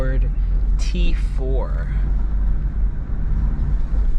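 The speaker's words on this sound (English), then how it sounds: "All right, first drive in the Honda Accord" A Honda Accord wagon drives along with a steady low engine and road hum from inside the cabin; someone speaks briefly at the start, then the drone continues alone.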